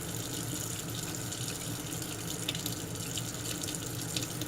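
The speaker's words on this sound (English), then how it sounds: "I'll give it a light wipe down this hot soapy water." Water sloshes and trickles steadily with faint wet rubbing and small splashes as a soft sponge wipes a Remington 1858 revolver in hot soapy water.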